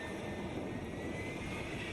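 A jet aircraft engine roars in a steady, dense, continuous rush of noise, unbroken and without any voices.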